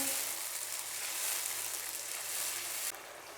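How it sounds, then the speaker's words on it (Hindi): Tomato paste fries in a pan for masala rajma, a steady close sizzle that holds evenly and then eases slightly toward the end. "अब टमाटो पेस्ट शामिल करने के बाद भी इसको हमने मज़ीद भूनना है।"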